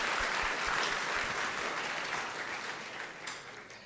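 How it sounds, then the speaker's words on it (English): An audience at a hackathon opening ceremony applauds steadily. The dense clapping fills the room and slowly fades toward the end. "Can we get one more round of applause for PNC for being our title sponsor?"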